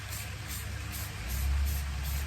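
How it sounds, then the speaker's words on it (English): Matte flat white spray paint hisses from a can in short, light, evenly spaced bursts while a tumbler is coated. The bursts are close and steady, with no talking. "We're going to go matte, flat white spray paint. We're going to do light coats."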